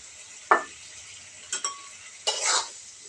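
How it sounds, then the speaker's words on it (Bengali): Spoon stirring soybean chunks into a spiced fried-potato mix in a pan, giving a few short scraping strokes and soft sizzles spaced across a quiet stretch, close and moderately loud. "সোয়াবিনগুলো দিয়ে ভালোভাবে মিশিয়ে কিছুটা সময় রেখে দেবো এভাবে"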